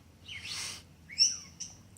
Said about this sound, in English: You can hear the birds going.